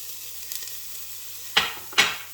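Garlic, chilli and ginger hit a hot pan for a vegan kale miso soup. Two sharp bursts of sizzle flare up one after another near the end, following a quiet stretch with faint ticks.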